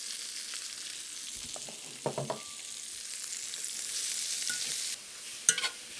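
Chopped celery and mushrooms sizzle in a pan with a steady hiss, punctuated by a few clattering stirs and scrapes of a utensil, and no voices.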